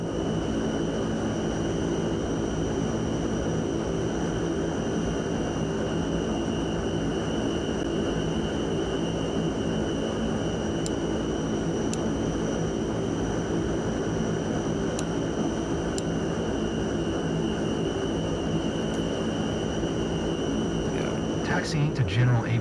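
A Fokker F27 turboprop taxis in Microsoft Flight Simulator 2024, its engines giving a steady, loud drone with a constant high whine over the top and no change in pitch.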